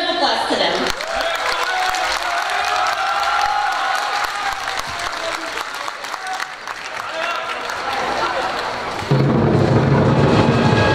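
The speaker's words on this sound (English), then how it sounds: "So big round of applause to them." Audience applause fills the hall at Herricks High School's Lunar New Year celebration, a dense, sustained clapping crowd lasting many seconds, swelling louder near the end alongside some cheering.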